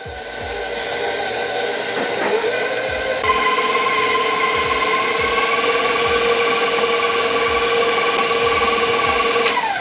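An electric hand mixer whips potatoes for a potato salad on low speed, giving a steady, continuous motor whine with a sustained hum and no talking over it.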